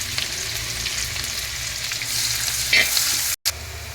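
Chopped onion fries in a pan for egg fried rice, a constant close sizzle with occasional stirring scrapes and a short cut near the end.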